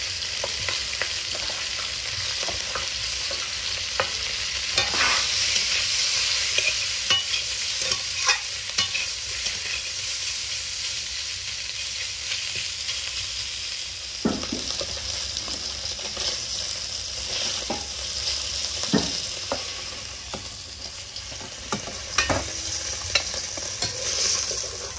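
Jiyal fish frying in a pan gives a steady sizzle, broken by repeated scraping stirs and light clinks of a utensil against the pan.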